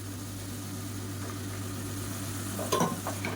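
Carrot, potato and bean pieces sauté in a pan with a soft, continuous sizzle, then a short burst of louder stirring and scraping near the end.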